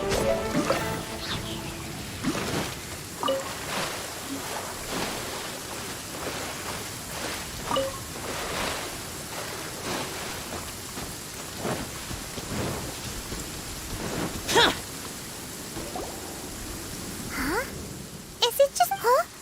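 Rain and thunder in the video game Genshin Impact, steady rainfall hiss with repeated rumbling thunder bursts throughout, under intermittent talk.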